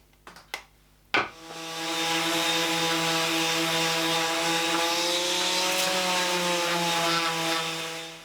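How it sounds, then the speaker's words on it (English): A power sander runs steadily on small wood pieces for a barrel shot glass holder, smoothing them flat. A few sharp knocks come first, then the motor hums loud and even for several seconds before tapering off. "I'm going to sand these down right now before we measure this out so they lay flat"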